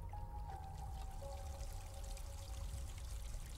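Steady broadband rush of a waterfall pouring in the game Gris, continuous and even throughout, with a faint tonal musical line drifting above the wash.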